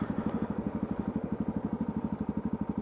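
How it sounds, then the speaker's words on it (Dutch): A warm motorcycle engine running during a ride through crowded Groningen city centre streets on King's Day, giving a steady, rapid, evenly pulsing throb that stays close and fairly quiet, with no voices. "De motor is lekker warm."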